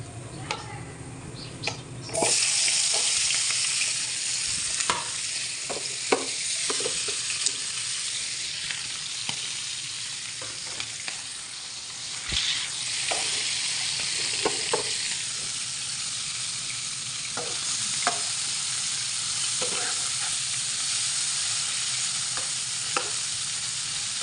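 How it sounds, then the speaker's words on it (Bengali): Meat fries in a pan of oil after browned onions are lifted out, starting abruptly with a loud sizzle that settles into continuous crackling with scattered pops and stirring clatter. "মাংসগুলো ভাজা ভাজা হোক"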